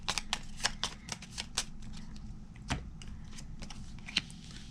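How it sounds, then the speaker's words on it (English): A deck of cards being riffled and shuffled during a tabletop game, a quick series of crisp flapping bursts with a louder snap near the end, close and clear. "I'm going to shuffle our deck to get an extra aging card."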